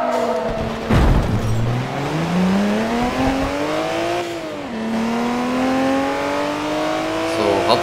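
Car in Forza Motorsport 3 accelerating hard through first and second gear, the engine note climbing steadily in pitch, dropping briefly at the upshift, then rising again, loud and close with a brief burst of noise near the start.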